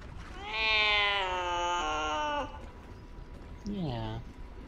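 A cat meows in the Baldur's Gate 3 video game, one long drawn-out mewl followed by a shorter rising meow, clear and close over light background noise.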